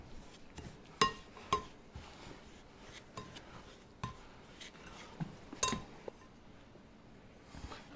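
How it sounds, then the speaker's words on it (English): Sugar and softened butter are creamed together by hand for a yellow layer cake batter. Quiet, irregular clinks and taps of the utensil against the bowl come through close by, with a few sharper knocks. "here I've got the sugar and I'm adding the softened butter. Now I'm going to start creaming that all together"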